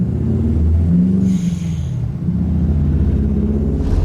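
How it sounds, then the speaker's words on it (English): Subaru car engine rumbling steadily at a road car show, a loud continuous low drone throughout with a brief dip in level midway, no talking. "I can hear a Subaru."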